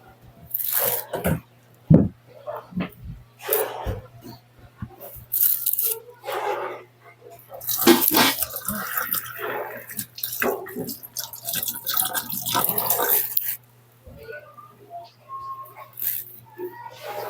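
Moringa flowers are washed by hand in water, with splashing, dripping and sloshing in uneven bursts up close, a steady low hum beneath, and brief murmured voices.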